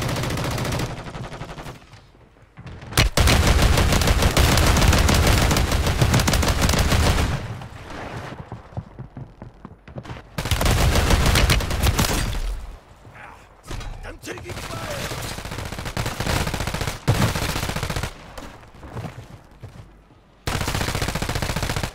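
Video game gunfire crackles in dense bursts and sustained volleys, mixed with in-game voice callouts and a player talking, loud and cluttered with brief lulls between exchanges.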